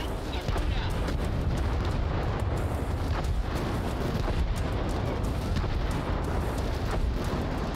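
Siege tank artillery fire in the game Crossfire: Legion, a dense, continuous barrage of booms and blasts, loud and unbroken throughout, with a voice speaking over it.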